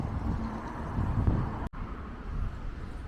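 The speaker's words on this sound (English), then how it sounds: "Do please excuse the traffic noise." Busy road traffic passing near a hotel demolition site forms a continuous low rumble and hiss, broken by a brief dropout near the middle.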